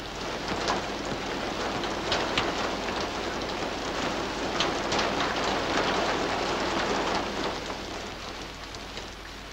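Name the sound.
rain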